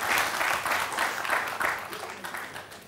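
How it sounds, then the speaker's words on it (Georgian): Studio audience applause on a Georgian televised comedy contest show, a steady burst of clapping with slight rhythmic swells that holds loud through the whole moment, with no talking. "აპლოდისმენტები მეგობრებო"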